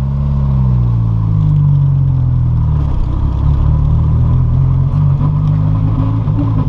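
A turbocharged VW Gol with a Fulltech FT350 engine management unit and a booster holds a steady high-rev drone at its rev limiter, loud and close, with slight stuttering pulses in the tone.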